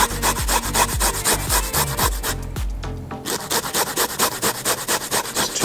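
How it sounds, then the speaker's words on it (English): Rapid rhythmic rasping as garlic cloves are grated on a microplane, steady close scraping strokes with a brief pause in the middle before the grating resumes. "So you're going to microplane some garlic up here."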